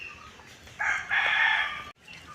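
A rooster crows in one long, loud call, broken by a brief gap, among chickens scratching through grass outdoors, with a softer bird call before it and no voices.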